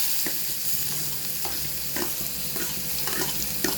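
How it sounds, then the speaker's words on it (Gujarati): Chopped onion sizzling in hot oil already tempered with mustard seeds, cumin, asafoetida and curry leaves, a steady close frying hiss with regular soft scrapes of a spoon stirring, without any speech. "હવે નાખશું ડુંગળી"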